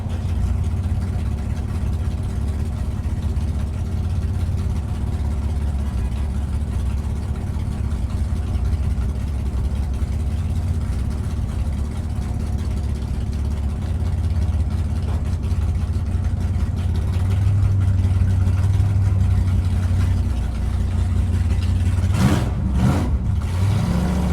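A 1962 Dodge Dart with a 413 Max Wedge V8 out on the road, its engine a steady loud low rumble throughout, swelling slightly as it pulls before a few brief thumps near the end.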